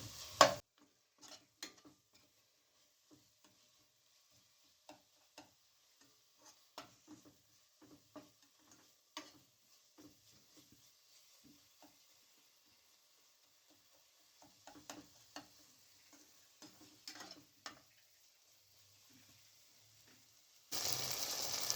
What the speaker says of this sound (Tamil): மசாலாலாம் சேர்த்து நல்லா வதக்கிக்கிறேங்க.